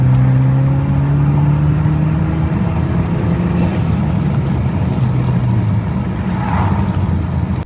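A BMW F30 320i with the N20 engine drives steadily through a wide, sweeping corner, its engine drone loud and close and slowly falling in pitch, with road and wind roar underneath and no voices.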